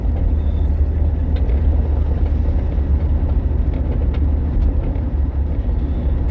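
Gravelly, grinding wheel-bearing drone from a Hyundai i30 on the move, a steady low rumble of road and tyre noise heard from inside the cabin, continuous and fairly loud with no talking.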